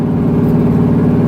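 A car engine idles at low RPM with a slightly uneven, pulsing rumble from a miss, close and steady with no talking.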